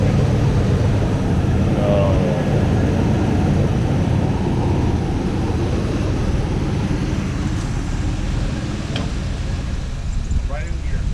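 A Chevy C10 truck engine, newly revived, runs steadily at close range with a loud, continuous rumbling idle and no breaks. Voices talk briefly over the engine.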